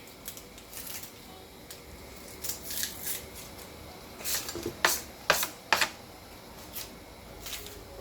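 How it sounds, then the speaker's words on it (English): A knife slices through an onion for Jamaican curried goat, giving a series of crisp, dry cuts that cluster into quick bursts in the middle, close and moderately loud over a quiet kitchen background. "Cut the onion."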